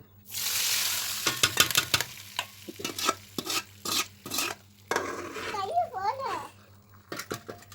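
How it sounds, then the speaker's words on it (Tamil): Bitter orange pickle being stirred after hot oil is poured in, with repeated scraping and clinking of a spoon against a pan over a soft sizzle, close by, and a voice chattering partway through. "நல்லா கிண்டி விட்டுக்கணும்"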